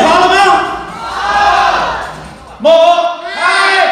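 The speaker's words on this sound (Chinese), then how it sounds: "用你们的热情高呼祝酒词，共度美好时光。" At a company year-end party welcoming 2024, a crowd shouts a toast together. Loud, sustained group voices swell and fade, then break into a sudden sharp burst of shouting.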